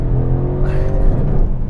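A Mercedes-AMG GLC 63 Coupe accelerates hard from inside the cabin, its engine a loud, rising growl with a layered exhaust roar that climbs steadily through the short pull.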